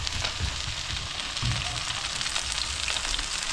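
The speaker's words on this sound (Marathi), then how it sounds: "आता मास फिश हे करतोय फ्राय करण्यासाठी बघा." Tilapia frying in hot oil, a dense continuous sizzle and crackle that stays loud and close throughout, with no voices.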